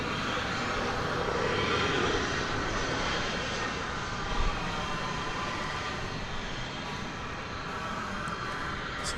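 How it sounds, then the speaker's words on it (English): A Japan Airlines jet airliner arrives at DFW Airport, its broad steady engine roar filling the scene at a constant, fairly loud level, heard from a distance with no talk over it. "we're almost getting ready to see the Japan Airlines flight, which I think will be our final arrival of the morning"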